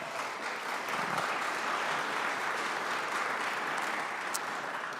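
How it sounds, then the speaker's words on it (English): An audience at a joint House and Senate veterans' hearing breaks into steady clapping, a dense round of applause lasting several seconds without speech over it. "that does deserve a round of applause"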